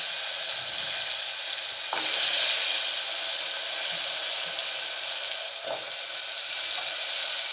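Potatoes drop into hot oil for a Gujarati peel-on potato curry, setting off a steady, loud sizzle and frying hiss throughout, with a couple of soft knocks as they go in.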